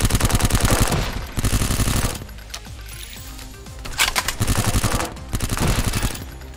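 Rapid machine gun bursts ring out in the VR arcade shooter Silicon Rising, several loud sustained volleys separated by brief pauses filled with smaller game effects.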